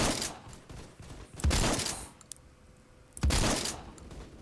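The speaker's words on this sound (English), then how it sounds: "Got one shot by an SKS." SKS rifle fire in a video game, two sharp loud reports a couple of seconds apart, each with a ringing decay, quieter game ambience in between.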